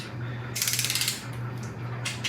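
A torque wrench ratchets while tightening bolts on a Chevrolet Silverado quad cab truck: close, crisp rapid clicking in two or three short bursts over a steady low hum, with no talking.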